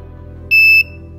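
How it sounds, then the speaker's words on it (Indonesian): A single steady electronic beep from a line maze solving robot's buzzer, high-pitched and clear, lasting about a third of a second over a quiet background hum. "Buzzer telah berbunyi"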